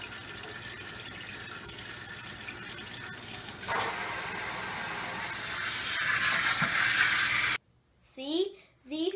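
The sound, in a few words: washing sweet potato leaves in water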